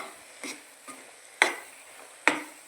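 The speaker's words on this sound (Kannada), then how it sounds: "ಇವಾಗ ಹಸಿ ವಾಸನೆ ಹೋಗೋ ತನಕ ಹಿಂಗೆ ಫ್ರೈ ಮಾಡಬೇಕು" A coriander spice mixture frying in a pan gets stirred in four separate strokes, each a short, soft scrape or tap, with a faint sizzle in the quiet gaps between them.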